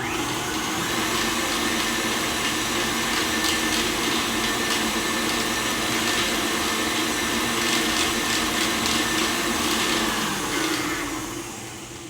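An electric mixer beats cookie dough ingredients for turtle and Mickey cookies, its motor giving a steady, close, continuous whine for the full twelve seconds before easing off at the end.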